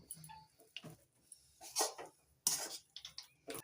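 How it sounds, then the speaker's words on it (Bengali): A spatula clinks and scrapes in a pan as food is stirred and mixed with chopped coriander leaves, in quiet, irregular clatters separated by short pauses. "নাড়াচাড়া করে ভালো করে মিশিয়ে নিচ্ছি"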